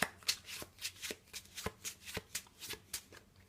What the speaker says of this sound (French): on bat les cartes